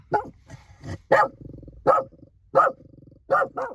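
A large dog barks loudly and close by in a run of six deep, spaced barks, with lower growl-like rumbles between them and no talking.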